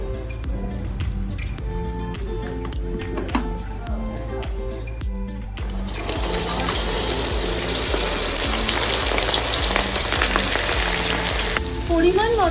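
Hot oil sizzles loudly in a wok for fried rice, a dense steady frying hiss that swells in about halfway through after a quieter opening and carries on to the end.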